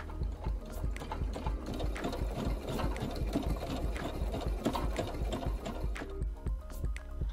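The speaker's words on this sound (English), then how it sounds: "I put this design into the machine, a FAF Creative Ambition 640," A FAF Creative Ambition 640 embroidery machine stitches out a design with a close, rapid, rhythmic mechanical chatter of needle strikes over a low motor hum, running steadily throughout with no talking.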